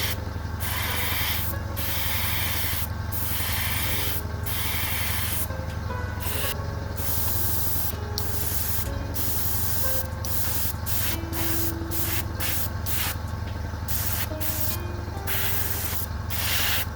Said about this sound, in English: Airbrush is reloaded.